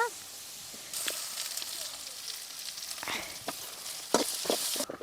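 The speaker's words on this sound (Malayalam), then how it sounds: "ഞാനിതിൽ രണ്ട് മീഡിയം സൈസിലുള്ള വലിയ ഉള്ളിയാണ് ചെറുതായിട്ട് അരിഞ്ഞിട്ട് കൊടുക്കണത് കേട്ടോ" Two medium-sized finely chopped onions sauté in a hot pan for homemade wheat flour noodles, giving a steady soft sizzle broken by scraping stirs, close and fairly quiet with no talk.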